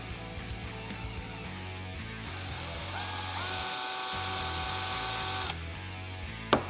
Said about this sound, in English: drill just a little more.